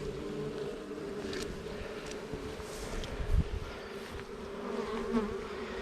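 Agitated honey bees at an open hive in a heat wave, a dense steady buzz close by, with individual bees droning past now and then.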